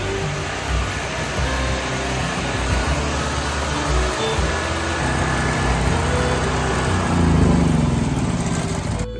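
A home backup generator running its monthly test gives a loud, continuous engine drone with a steady rumble throughout, close by and with no talking.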